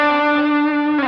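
Electric guitar through a Line 6 Helix Horizon Drive: one sustained, distorted, compressed note or chord that rings steadily and loudly for about a second, with a slight change right at the end.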